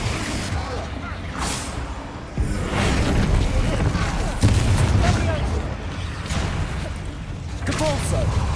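Fire spell blasts from the Confringo curse in a wizarding video game, repeated booming explosions with whooshing tails amid dense game sound and music.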